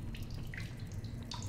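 Running water trickles steadily in a damp cave passage in The Solus Project, a faint continuous flow with light dripping, no voices.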